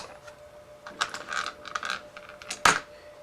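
Mossberg 715T rifle stock assembly sliding back into place, a few small mechanical clicks and scrapes ending in one sharp, close snap.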